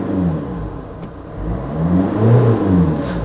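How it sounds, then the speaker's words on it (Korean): Diesel SUV engine at idle rising in a rev as the accelerator is pressed, a close low rumbling surge that swells and eases over a few seconds. "디젤 차량 같은 경우는 공회전 상태에서 엑셀을 밟으면은 RPM이 올라가면서"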